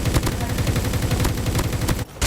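Rapid automatic gunfire from the mobile video game Call of Duty Mobile, a dense rattling burst of shots that cuts off briefly near the end, then resumes.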